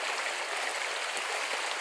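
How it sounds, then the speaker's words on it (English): A small babbling brook on a fishing trip, a steady close wash of flowing water that fills the whole stretch evenly with no voices over it. "the babbling of the brook"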